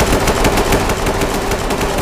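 Rapid automatic gunfire in the tactical shooter game Ready or Not, a dense continuous burst of shots throughout with no talking.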